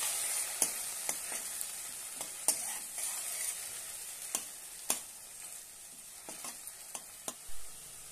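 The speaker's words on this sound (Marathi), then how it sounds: "टोमॅटोची पेस्ट करून घेतलेली आहे ते घालूया आणि छानपैकी परतून घेऊया।" Tomato paste sautéing in a pan for a pea and potato curry, with a steady bright sizzle and several sharp clicks of a spoon stirring against the pan, close and quiet, no talking.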